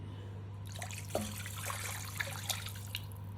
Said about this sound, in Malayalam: നമ്മളൊരു 3 ഗ്ലാസ് വെള്ളം ഒഴിച്ചു കൊടുക്കാം.